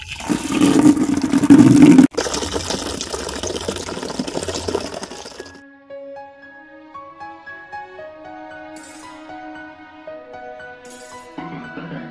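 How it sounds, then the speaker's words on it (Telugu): Water gushes loudly from a tap for several seconds and then stops, leaving soft melodic tones playing in the background. "ట్యాప్ తిప్పామా?"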